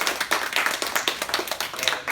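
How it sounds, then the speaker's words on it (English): Small group clapping at a final presentation, a brisk run of distinct, close handclaps at a quick, slightly uneven rhythm, loud and without voices over it. "So another round of applause for them"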